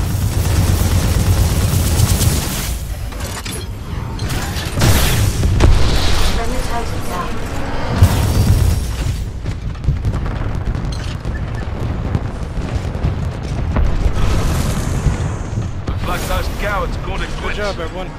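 Heavy explosions and booming weapon fire as a Titan attacks in Titanfall 2 Last Titan Standing on the Colony map, loud repeated blasts and rumbling across the whole stretch, with voices talking over the combat.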